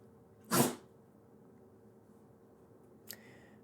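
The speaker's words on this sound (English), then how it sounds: "pardon my dog's sneezing behind me" A single sharp dog sneeze nearby, followed a few seconds later by a softer short snort, in an otherwise quiet room.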